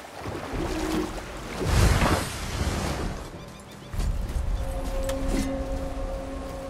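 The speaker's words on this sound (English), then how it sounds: "never seen a waterfall so big." A huge waterfall in the video game God of War rushes as a steady broadband roar, swelling louder near the two-second mark and holding a constant wash throughout, with faint tonal game ambience over it.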